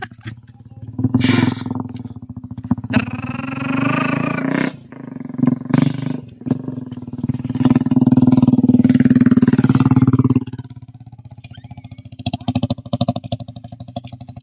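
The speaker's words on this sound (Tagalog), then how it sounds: "Andar ng tambutso" A motorcycle engine runs through its exhaust with a throaty, uneven roar that swells and drops in bursts. It sounds close and fairly loud, then settles into a lower rumble toward the end.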